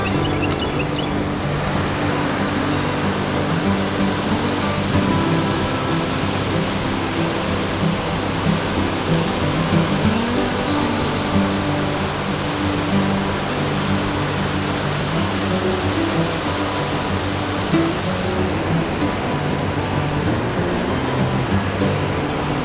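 A waterfall after recent rain in Marion Sansom Park roars as a steady, loud broadband rush of falling water, unbroken throughout with no voices.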